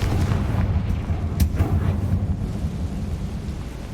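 The Confringo blasting spell from Hogwarts Legacy erupts in a deep, booming explosion with a sharp crack near the middle, followed by a low, rolling rumble that lingers at steady loudness.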